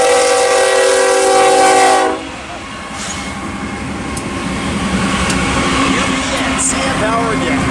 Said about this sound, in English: Here comes the freight coming down.